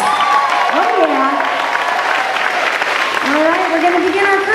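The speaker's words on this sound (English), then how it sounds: "And give that backstage crew a round of applause." Audience applause at a school performance of Peter Pan Jr. at Stinson Elementary, a steady broadband clatter of many hands filling the hall, with cheering voices and shouts rising over it throughout.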